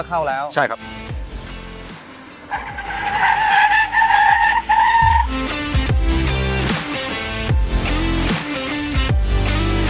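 A car corners on a race track during suspension testing, its tires squealing and skidding loudly for several seconds while the engine drones steadily, with someone talking over the sound throughout.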